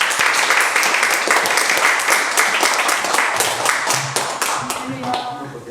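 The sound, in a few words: audience clapping to welcome speaker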